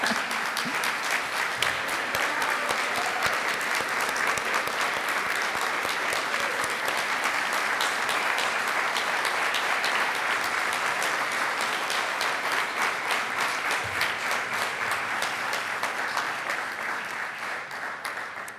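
Sustained applause from an audience at the opening ceremony of a university gathering on human development and sustainable tourism, a dense, even roar of clapping that holds steady and slowly fades near the end.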